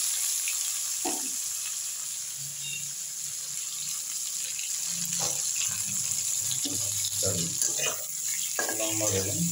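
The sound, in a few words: aubergine frying in oil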